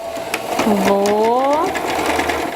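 A sewing machine runs steadily, stitching across a strap on a fabric project with a rising and falling motor whine through most of the clip. The stitching is close and loud, with a voice speaking over it.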